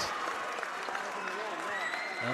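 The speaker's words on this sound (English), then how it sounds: "You hear the crowd." Basketball crowd in a high school gym applauding and cheering as a player reaches 1,000 career points, steady dense clapping filling the hall throughout with voices mixed in the roar.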